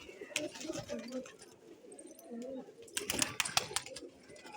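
Domestic pigeons kept at a rural house land and coo, with soft repeated coos and a few sharp wing-flap bursts toward the end, fairly close over a quiet outdoor background.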